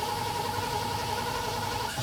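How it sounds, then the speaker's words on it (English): A van engine idles with a steady low rumble and a constant hum for a couple of seconds, nobody talking. "let's listen to this sweet ass engine."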